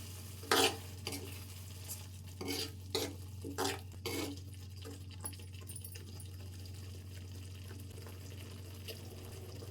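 Pulihora (tamarind rice) being stirred in a pan, a handful of scraping strokes clustered in the first few seconds over a steady low hum, then quieter simmering.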